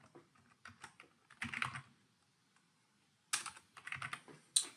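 Fingers typing on a computer keyboard while entering sign-up details on a website, with two bursts of rapid clicking keystrokes separated by a quiet pause, close and fairly soft.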